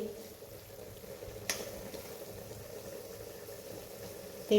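Spice masala roasting in oil for rajma, a soft steady sizzle and bubbling at low volume with one brief stir or scrape partway through and a sharper clink at the end.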